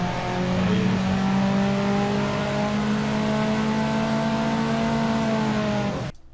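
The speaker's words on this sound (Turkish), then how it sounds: "Arabanın sesi çok geliyor ya." A car engine in the video game Unturned drones loudly and steadily, its pitch rising slightly as it revs, then cuts off abruptly at the end.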